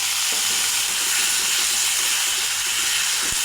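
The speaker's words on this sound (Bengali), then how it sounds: "এখন মশলাটা ভালো করে কষিয়ে নেব।" Spice paste with tomato frying hard in a pan for a cabbage curry with fish head, a dense, loud, continuous sizzle and hiss with faint stirring scrapes, no voices.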